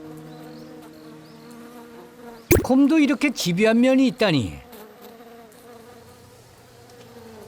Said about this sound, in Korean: 벌집이라도 건드렸는지 벌들이 덤벼도 개의치 않습니다.